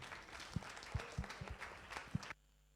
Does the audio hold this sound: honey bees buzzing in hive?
no